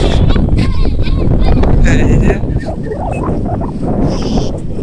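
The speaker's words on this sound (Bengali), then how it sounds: "প্রচুর বাতাস নদী পারে।" Strong wind on a riverbank buffets the microphone with heavy, constant low rumbling that eases slightly midway, while voices talk intermittently in the open air.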